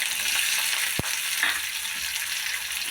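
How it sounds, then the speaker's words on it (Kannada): Onion frying in a pan for tomato chutney gives a steady, close hiss and sizzle, broken once by a sharp tap of a utensil, with no voices. "ಇವಾಗ ಇದು ಸ್ವಲ್ಪ ಫ್ರೈ ಆಗಿದೆ ಈರುಳ್ಳಿ ಫ್ರೈ ಆಗಿದೆ"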